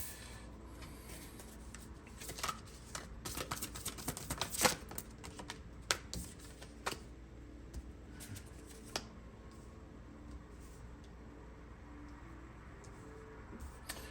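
Soft papery shuffling of cards close by, a quick burst of riffles and taps early on, then quieter rustling trailing off.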